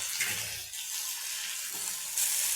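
Tomato frying with onions in a pan for an egg masala, a bright steady sizzle with crackly hiss and brief surges, close and unaccompanied by talk.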